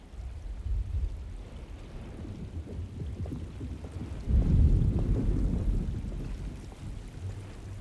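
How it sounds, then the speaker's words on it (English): In the video game Alone in the Dark, a distant thunderstorm rolls low and rumbling under a patter of rain, with one heavier thunder swell in the middle before it settles back. "I hear a thunderstorm in the distance"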